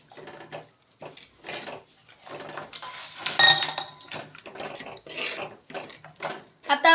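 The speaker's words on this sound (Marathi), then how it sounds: "आता आपण हलवून घेऊया." Peanut chutney stirred in a pan with a metal spoon, a series of close scraping and clinking strokes in irregular bursts separated by short quiet gaps, with no talking.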